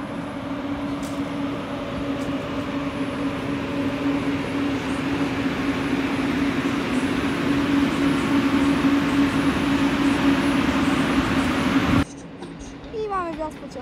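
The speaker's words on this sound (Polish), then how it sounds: "I mamy wjazd pociągu Rejdzie do Wrocławia" A train rolls into a station in Wrocław, a steady loud rumble and hum of wheels on rails with a low droning tone throughout, ending abruptly with quieter squealing and ambient noise.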